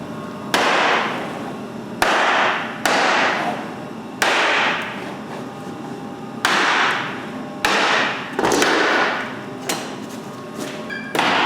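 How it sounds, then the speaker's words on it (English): A scrap 2x4 whacked hard against a door jamb, working from top to bottom: about nine loud, sharp wooden thuds at irregular intervals of one to two seconds, each ringing briefly. The blows are close, with no talk. "Start at the top and give it a good whack all the way down."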